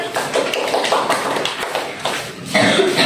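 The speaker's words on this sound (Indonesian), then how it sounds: "tepuk tangan" Students in a junior high classroom give a short round of hand clapping, a loose patter of claps with a few thumps and a cough mixed in, swelling slightly near the end.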